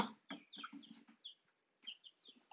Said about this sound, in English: There's chickens running around here.